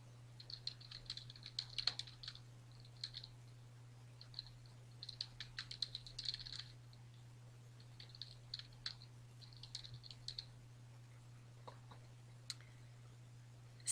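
Someone types on a computer keyboard nearby, sending quiet bursts of light key clicks in irregular runs over a low steady hum, with short pauses between groups of keystrokes.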